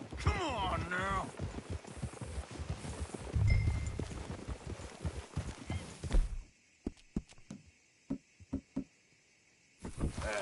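Horse hooves clopping in Red Dead Redemption 2, a few sharp, evenly spaced knocks on their own near the end, preceded by a stretch with people talking and game sound.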